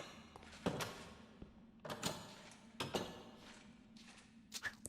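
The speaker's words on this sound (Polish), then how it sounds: "Walone drzwi." Repeated heavy thuds against a wooden door in Minecraft, about four broad knocking impacts spaced roughly a second apart, moderately loud over a low steady game hum.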